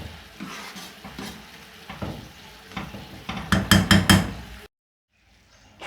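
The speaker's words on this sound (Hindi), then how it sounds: "अब इसमें मैं अंडे तोड़ के डाल देती हूँ।" Eggs are cracked into a pan of mashed fava beans for foul mudammas, a run of sharp taps and clinks with soft sizzling and stirring before the sound cuts to near silence.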